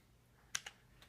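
Two crisp clicks of keys on a wireless Bluetooth keyboard during a TV login, then a fainter third tap, close and quiet with no talking.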